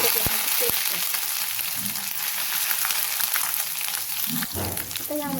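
Ginger-garlic paste hits hot oil already crackling with mustard and cumin seeds for a potato bhaji, giving a loud, steady sizzle with a brief spattering burst near the end.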